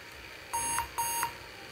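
A laptop sitting in its BIOS screen with a stuck key gives two identical short electronic beeps about half a second apart, clear and close over a faint background hum.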